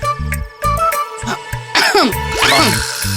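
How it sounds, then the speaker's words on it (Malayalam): A couple of harsh coughs break through over a busy musical background, close and fairly loud. "നിനക്ക് നല്ല ചുമയുണ്ട് കേട്ടാ"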